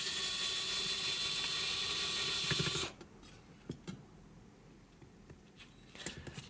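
A screwdriver turns screws out of a bathroom vent fan motor: close, quiet ratcheting clicks after a steady hiss cuts off, then a few scattered light taps and scrapes.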